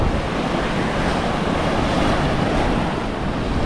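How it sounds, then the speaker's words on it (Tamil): Sea waves break against a rocky Caribbean shoreline in Jamaica, a steady, loud roar of surf with wind buffeting the microphone throughout, no voices. "பாறைகளில் வந்து கடல் முட்டுறது தான்."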